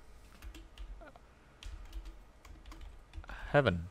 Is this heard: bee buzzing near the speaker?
no